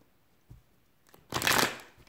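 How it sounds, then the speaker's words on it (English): Tarot cards being shuffled: a faint tap, then a short, loud riffling burst of cards that quickly fades, heard close and alone. "So let's shuffle real quick."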